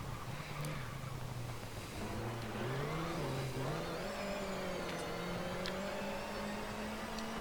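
Ford Fiesta R2 rally car engine in the Richard Burns Rally game, a continuous droning engine note that rises and dips with revs through gear changes, heard alone without voices.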